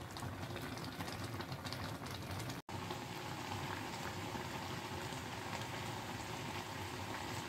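Mango chutney simmers in a pot with a steady, close bubbling hiss that carries on without a break. There is one momentary dropout near the start and no talking.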